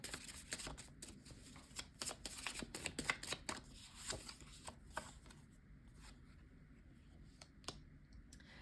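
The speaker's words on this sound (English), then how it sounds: "we're going to pull some channeled messages cards from a deck that I created" A deck of oracle cards is shuffled up close, crisp rapid riffling clicks and flicks in quick bursts that thin out into sparse taps toward the end, quiet and with no speech.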